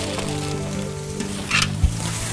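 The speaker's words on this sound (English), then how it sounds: "I need to use this marinade on the veal chops as they're braaiing" Veal chops sizzle steadily on a braai barbecue grill, a continuous close crackling hiss with a brief louder flare and a soft knock near the end.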